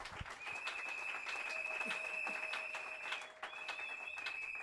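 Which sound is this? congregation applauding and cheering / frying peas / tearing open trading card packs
congregation applauding and cheering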